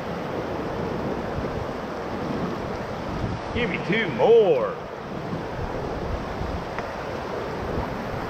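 Broad roar of whitewater on the Middle Ocoee River, where the channel narrows to about 25 feet into big, bouncy rapids, with steady rushing water and a guide's voice calling out briefly partway through.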